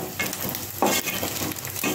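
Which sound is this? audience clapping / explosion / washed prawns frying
washed prawns frying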